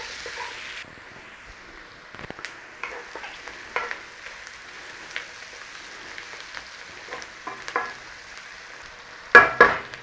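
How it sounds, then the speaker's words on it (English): Onions and chorizo fry in a pan with a soft, steady sizzle and occasional scraping stirs, ending with a couple of louder clatters of the pan. "Cook out a little bit of that rawness from those onions."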